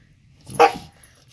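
A Siberian husky puppy gives one short, sharp bark close by, alone in an otherwise quiet room.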